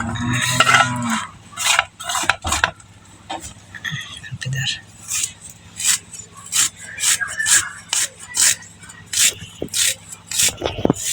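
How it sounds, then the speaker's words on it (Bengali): Ginger being chopped with a knife on a board in a home kitchen: a run of quick, sharp, close knocks, sometimes single and sometimes in clusters, under steady conversational talk. "যার জন্য এই যে আদা কুচিও করতেছে"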